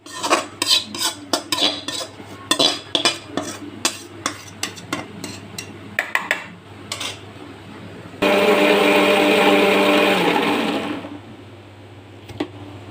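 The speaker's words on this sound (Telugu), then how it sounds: "దీన్ని మిక్సీలో వేసుకొని మిక్స్ చేసుకుందాం." A mixer grinder blends cooled fried tomato chutney ingredients, starting after a run of clattering taps and knocks with a loud, steady whirring burst of about three seconds that cuts off abruptly.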